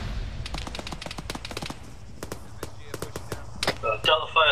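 Sharp gunshots crack out in rapid, irregular bursts during an army pre-deployment training exercise, some shots overlapping like automatic fire, with the last few louder and closer.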